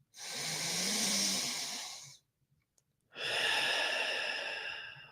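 Two long, deep breaths during a breathwork exercise, each a loud, airy inhale or exhale lasting about two seconds, close to the microphone, separated by a brief near-silent pause.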